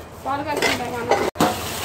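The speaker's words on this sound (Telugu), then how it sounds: "స్టీల్ గిన్నెలు తీసుకో." Steel dishes clatter and clink a few times close by, mixed with a voice talking.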